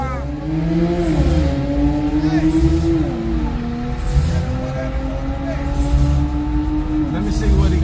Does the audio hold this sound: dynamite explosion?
no